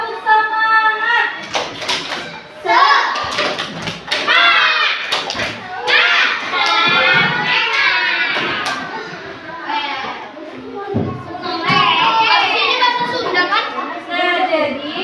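Classroom of children performing the tepuk semangat clapping chant, loud chanted voices in unison punctuated by bursts of rhythmic clapping, close and lively.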